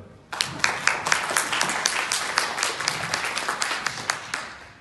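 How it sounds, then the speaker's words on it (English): An audience claps together in a room for several seconds, a dense, steady patter of many hands with sharper individual claps standing out, starting abruptly and continuing at an even level. "Give a clap."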